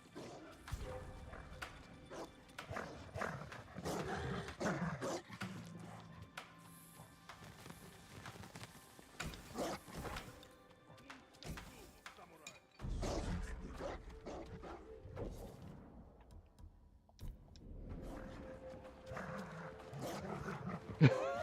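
Dogs in the video game Ghost of Tsushima bark repeatedly in uneven bursts over a busy game soundscape with thumps, moderately loud and continuing through most of the stretch.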